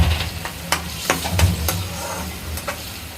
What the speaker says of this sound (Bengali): এখন এটাকে একটু কষাতে হবে